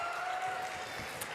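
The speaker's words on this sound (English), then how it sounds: "they all get a round of applause here as they check out" Steady applause from a crowd at a girls' high school basketball game, a dense, even clatter of clapping throughout the short moment.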